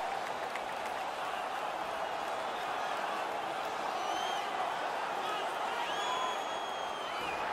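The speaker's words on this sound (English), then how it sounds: "the home crowd is ecstatic. They're making all kinds of noise" Home crowd cheering in the NHL 18 video game, a continuous roar of crowd noise with scattered whistles and whoops, steady throughout behind the commentary.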